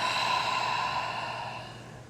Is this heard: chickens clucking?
no